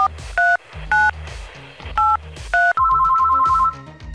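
A phone dials with a run of paired touch-tone beeps in a steady rhythm, then a longer held tone like a ringback, loud and close, with no talking.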